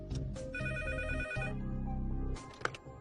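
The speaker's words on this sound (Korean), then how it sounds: "학부모로부터 전화가 왔습니다." A telephone rings in a quiet school staff office, a steady electronic ring with layered tones that runs for about two seconds and then fades into a quieter room with a brief knock.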